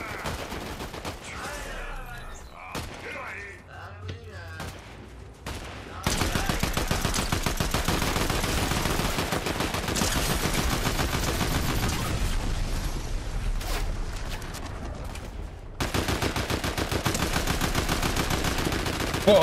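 Rapid bursts of automatic weapon fire in Fortnite, loud and close, rattling in dense volleys with short pauses between them, while players speak at times.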